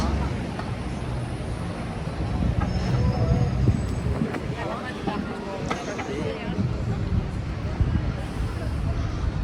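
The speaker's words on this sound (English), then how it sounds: "So that's Piccadilly Circus." Street ambience at Piccadilly Circus in London, a continuous rumble of buses and passing traffic with a busy background murmur, holding at a steady, moderately loud level.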